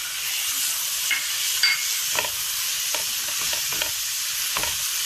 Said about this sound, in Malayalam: ഇതിട്ട് നന്നായിട്ടൊന്ന് ഇളക്കി വേടിപ്പിക്കുക.